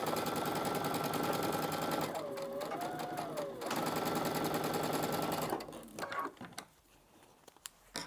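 A sewing machine runs in a steady fast whir while stitching a side of a puff quilt, pausing briefly mid-seam, then restarting before stopping with a few soft handling clicks at the end.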